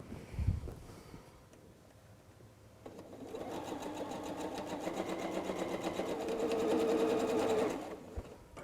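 A sewing machine stitches quilt wall hanging pieces, starting faint after a soft knock and building into a steady, whirring run of rapid needle strokes that grows louder, then stops abruptly near the end.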